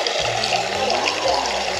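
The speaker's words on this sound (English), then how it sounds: "Wash my feet in the sink." Tap water runs steadily into a sink while bare feet are washed under it, a continuous close splashing and trickling with brief shifts in flow and no talk.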